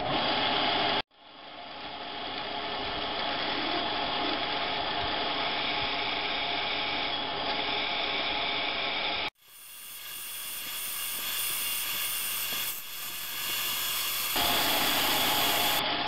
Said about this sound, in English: we're going to drill these through all the way around